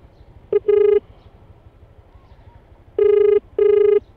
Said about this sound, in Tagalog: Tawagan ko lang po yung customer.